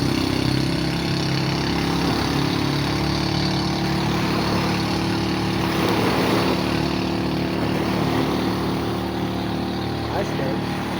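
A boat running on a single engine drones steadily and loudly at mid pitch for the whole stretch, with wind and water noise mixed in and voices talking over it.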